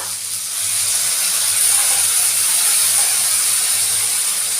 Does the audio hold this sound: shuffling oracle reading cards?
no